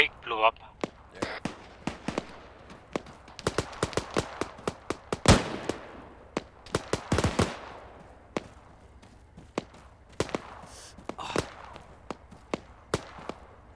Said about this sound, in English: There's some grenades going.